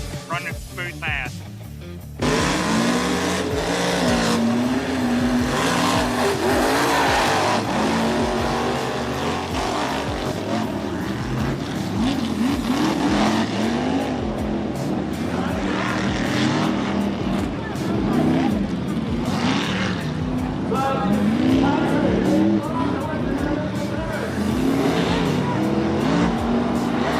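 Race truck making a pass on a slick, wet track without nitrous, its engine roaring loud and close with rising and falling revs over a long run, with speech heard over the engine.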